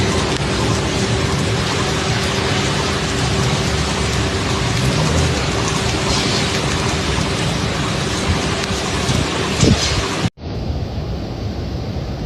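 Heavy rain from Storm Claudia in Portugal pours in a loud, steady hiss throughout with a brief rumble, then cuts abruptly to a quieter wash of rain near the end.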